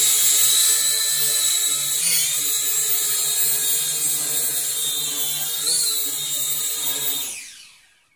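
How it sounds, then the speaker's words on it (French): A Syma X5C quadcopter drone whines loudly and close by as it flies during a hand launch. The high rotor buzz holds steady with brief pitch shifts, then fades away quickly at the end. "trouvé une technique assez spéciale pour faire décoller et atterrir le drone plutôt que le faire du sol"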